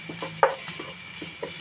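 Curry leaves going into hot oil with onions and ginger-garlic paste, a soft continuous sizzle with a sharp utensil clink and light stirring taps, up close and with no voices.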